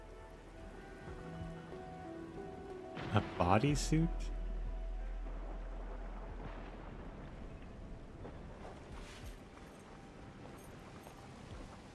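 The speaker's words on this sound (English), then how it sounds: "It's raining harder." Steady rain pours down in the video game Arknights Endfield, a constant hiss that carries on under a person talking, with a brief louder burst near the start.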